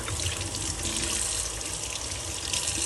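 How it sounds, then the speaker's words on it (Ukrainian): Tap water runs steadily over a wooden spoon being rinsed after boiling, a continuous close gushing splash with no talk. "але я ще змию трошечки водичкою"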